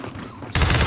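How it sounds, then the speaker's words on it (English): Sudden loud burst of rapid gunfire in Gears 5, erupting after a quieter moment and continuing as a dense barrage. "Sloppy shooting!"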